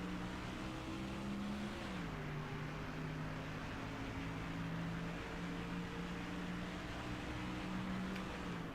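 Race cars from the NASCAR Thunder 2004 video game drone through traffic at Watkins Glen, several engine tones overlapping and shifting in pitch as a continuous moderately loud roar.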